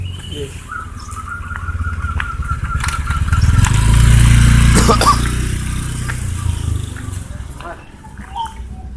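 A motorcycle rides past along a road, its engine drone swelling to a peak in the middle and then fading, with birds chirping and people talking throughout.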